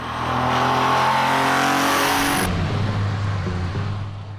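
Lamborghini Countach V12 engine with six Weber carburetors roaring loudly as it revs, a rich steady howl that drops to a lower rumble halfway through, with no talk.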